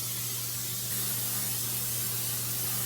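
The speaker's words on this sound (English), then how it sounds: "So now I'm going to spray my counter with Pam." Pam cooking spray hisses steadily onto a kitchen counter while sourdough cinnamon roll dough is prepared, a soft continuous spray lasting about three seconds over a low background hum.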